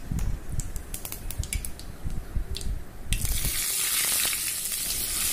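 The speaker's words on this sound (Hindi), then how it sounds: "तेल गरम हो जाने के बाद इसमें सरसों डालेंगे और 1 चम्मच जीरा डालेंगे" Mustard and cumin seeds crackle and pop in hot oil for a tempering, then a loud steady sizzle bursts up and keeps hissing close by.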